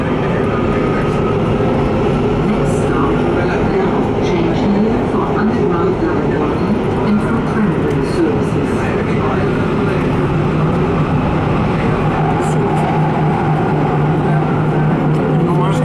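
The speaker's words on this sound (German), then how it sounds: "in Nürnberg gibt es die U-Bahn, wo führerlose U-Bahn ist" A driverless U-Bahn subway train in Nuremberg runs through a tunnel, giving a steady, loud rumble and roar of wheels and motors that lasts throughout, with faint voices or announcements mixed in.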